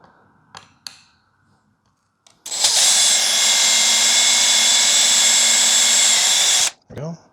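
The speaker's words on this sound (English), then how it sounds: "I'm going to start off with a smaller drill bit to create our pilot hole." A power drill whines loud and steady for about four seconds, boring a pilot hole through car metal with a small bit to mount a fire extinguisher, after a few faint clicks and taps; a brief voice follows.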